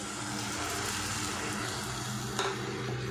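Ground masala spice powders frying on a low flame in a pan, a soft steady sizzle with light stirring scrapes throughout, one brief clink near the end.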